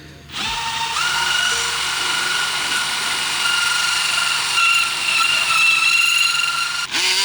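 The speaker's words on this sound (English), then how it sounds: "We've switched to the multi-tool. That's cutting it better" A multi-tool cuts through a sheet during a van build, a steady high whining buzz that runs close and loud for several seconds before cutting off near the end.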